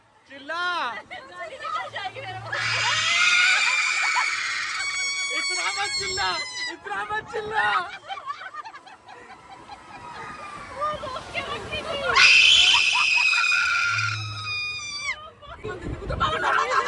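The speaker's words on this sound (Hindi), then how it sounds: "यही तो झूले का असली मजा है, जहां चीख भी खुशी बन जाती है।" Riders on fairground swing rides at the Bargarh Dhanuyatra festival let out two loud bursts of joyful screaming, mixed with shouts and crowd chatter.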